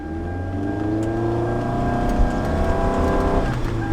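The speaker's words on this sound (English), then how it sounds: "there the engine just shut off" A 2009 Toyota Camry Hybrid with a check-hybrid-system fault runs with a loud, close engine hum and whine, its tones sliding downward as it winds down and cuts off near the end.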